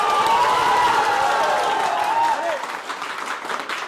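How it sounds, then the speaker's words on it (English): A team of students in an English speaking confidence class claps hard in a clapping contest, loud dense applause with some whoops and a voice calling out over it, easing off slightly near the end. "जहां की क्लैप तेज होगी वही टीम जीतेगी"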